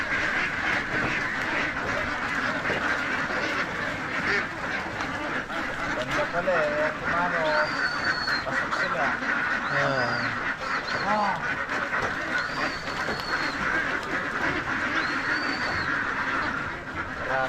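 Layer ducks quack in a loud, dense flock while being unloaded and loaded on a poultry farm in Victoria, Laguna, with honks over a constant crowd din and people talking nearby.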